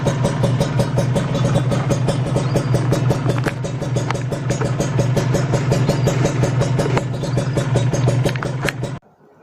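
A Kawasaki Ninja 150 RR motorcycle engine runs steadily and loudly close by on a road test, with a dense rapid rhythmic exhaust pulse throughout that cuts off abruptly near the end.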